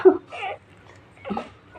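Small puppies whimpering and yelping in short, soft bursts close by, with a brief pause between cries.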